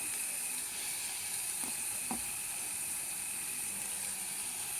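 Green gram (moong) curry frying with spices in a pan, a steady close sizzle and hiss throughout, with two brief utensil knocks partway through and no speech.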